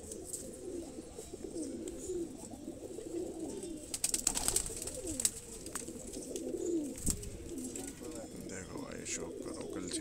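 A flock of Madrasi Kalseere pigeons coos nearby in low, rolling, overlapping calls. A brief burst of fluttering and chirps rises midway, and the cooing continues steadily throughout.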